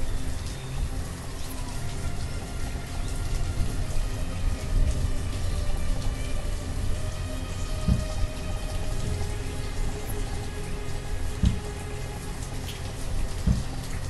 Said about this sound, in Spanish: Ahorita está lloviendo